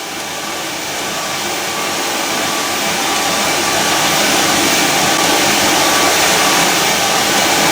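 A steady machine whir and airy hum from a running dryer, loud and close, swelling slightly in the first seconds then holding constant.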